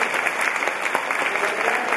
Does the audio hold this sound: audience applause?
yes